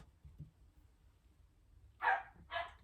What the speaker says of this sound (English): you may be able to hear my dog in the background